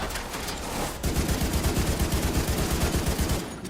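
Rifle fire from an ACR-SS build in The Division 2 crackles in a fast, sustained automatic burst, loud and close, following a brief lull at the start.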